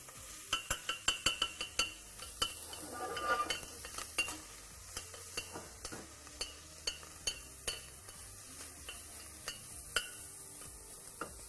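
Lamb tail fat sizzling and melting in a hot pan, with steady crackling spatter and repeated sharp clinks of a utensil stirring against the metal.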